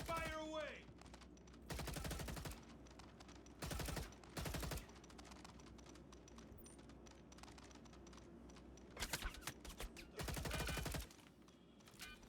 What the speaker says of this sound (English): that guy was shooting from through the smoke